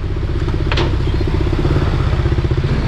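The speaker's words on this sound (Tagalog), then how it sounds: "Tapos ito yung motorsiklo na nakakuha kanina." Motorcycle stopped during a traffic enforcement operation on a Philippine road, its engine idling in a loud, close, rapid rhythmic putter with a brief clatter partway through.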